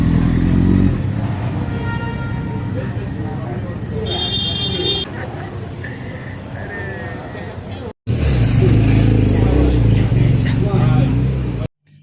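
Motorcycles roar past close by, loud and continuous with a revving surge, mixed with background chatter and street noise in Danok, Thailand.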